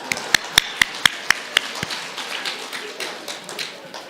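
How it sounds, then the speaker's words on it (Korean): Congregation at a Sunday family church service applauding: a brief burst of sharp claps at first, then a softer, denser wash of clapping fading out over the last few seconds. "박수 한번 해주세요."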